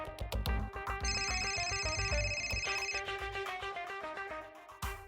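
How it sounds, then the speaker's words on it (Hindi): A telephone rings as a call is placed, a loud, steady musical ringtone with repeated tonal bursts filling the whole stretch, close and alone with no talk over it. "फिलहाल तिवारी को फोन लगाओ"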